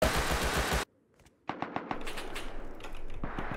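AK rifle fire in the game Rust, heard as a rapid automatic burst that stops abruptly. After a short near-silence, a scatter of sharp single shots and short bursts follows, loud and close.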